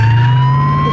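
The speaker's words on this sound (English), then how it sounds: "Turns on his siren." A police car's loud, steady electronic siren wails close by, a sustained piercing tone with no other sounds over it.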